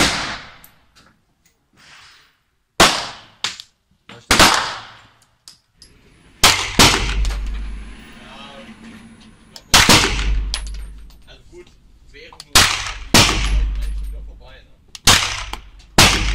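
About nine loud, sharp gunshots from a firearm fitted with a compensator, fired at irregular intervals a second or two apart, each with a short echoing tail. Quieter handling noise sits between the shots.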